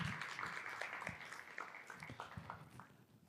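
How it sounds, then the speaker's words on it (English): A commencement audience gives the graduate college a round of applause, scattered distinct claps ringing through a large hall and slowly tapering off. "So please give the Grad College one more round of applause."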